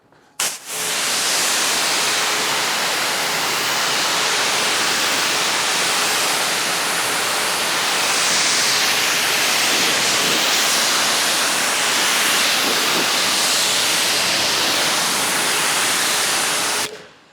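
Steady, loud broadband hiss of water spray and air blowing over a Porsche 997 GT3 RS during a wash, running continuously for the whole stretch with no talking.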